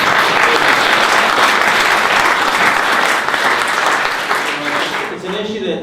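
An audience at a city council candidate forum applauds in a dense burst of clapping that holds steady, then thins and fades toward the end, with a voice starting to speak as it dies down.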